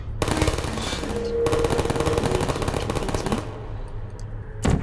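Turret robots in the video game Portal fire rapid, sustained bursts of machine-gun-like shots that fill most of the clip, break off briefly and end in a short final burst. A single voice swears once.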